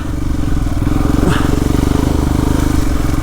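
An off-road motorcycle with an upgraded 40-tooth sprocket pulls hard in third gear across sand, its engine droning loud and close in a steady, throbbing rumble with a brief scrape partway through.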